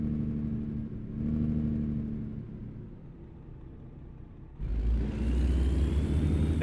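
A truck engine with a new transmission in American Truck Simulator hums and rumbles steadily, then surges louder as it revs higher near the end, alone without talk.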